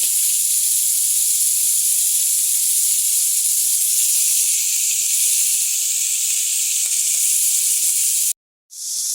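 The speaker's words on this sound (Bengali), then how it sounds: "মাছটা ভাজা হচ্ছে।" Fish frying in a pan with spiced masala for a taro-corm fish curry gives a loud, steady, unbroken hiss that stops abruptly for a moment near the end, then resumes.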